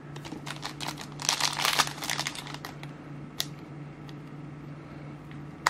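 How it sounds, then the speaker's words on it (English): A Pokémon Lost Thunder booster pack wrapper is crinkled and torn open close up. Bursts of sharp crackling foil ripple for a couple of seconds, then fade into scattered rustles and a few sharp clicks. "Now we open up our next booster pack"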